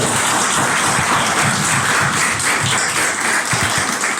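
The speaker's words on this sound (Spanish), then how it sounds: "Un aplauso al Señor, gloria a Dios. Más fuerte el aplauso." A church congregation at a Spanish-language service claps loudly for the Lord, a thick, continuous roar of many hands sustained for over four seconds with no talking.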